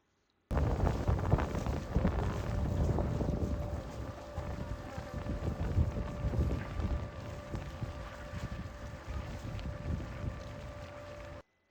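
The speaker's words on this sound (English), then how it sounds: "it normally takes around 20 minutes to cross the fjord by ferry" A car ferry crosses a wide Norwegian fjord, its engine a steady low rumble under gusting wind buffeting the microphone, continuous and fairly loud after a sudden start, with faint talk underneath.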